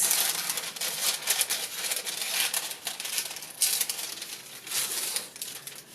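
Crisp crinkling and tearing as a strip is cut from a sheet of material for a desk powerboard setup, close and steady, with bursts of rustle over several seconds and no talking.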